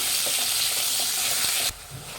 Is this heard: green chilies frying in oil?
yes